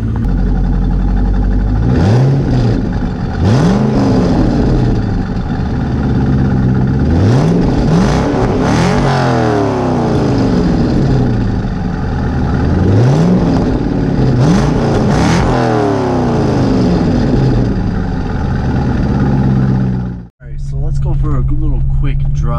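A 1999 C5 Corvette engine revs repeatedly through a loud, raspy modified exhaust, rising and falling in pitch several times, then cuts briefly before idling.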